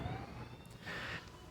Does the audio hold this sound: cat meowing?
no